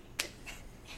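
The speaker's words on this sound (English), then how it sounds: "clap your hands" A single sharp hand clap rings out near the start during a sing-along of "If You're Happy and You Know It," followed by two much fainter claps, all quiet against a still background.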